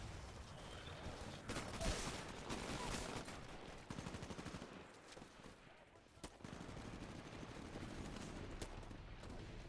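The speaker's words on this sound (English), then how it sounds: "As you can possibly hear in the background, there's a few snipers on this map." Sniper rifles fire across a map in the video game Titanfall, with repeated sharp shots and rapid bursts of gunfire at mid distance over a continuous battle din, with no one speaking.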